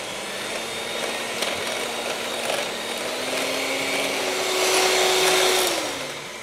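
An electric mixer whirs steadily through cake batter nearby, its motor pitch rising as the speed is increased near the end, with no voices.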